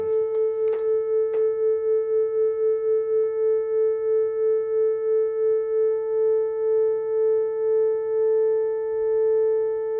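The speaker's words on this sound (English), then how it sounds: "you should be able to hear 5 beats. Now, as I tune this, that beat frequency is going to slow down" A steady pure tone sounds alone, its loudness pulsing in regular beats that gradually slow and spread apart, after a few brief clicks at the start.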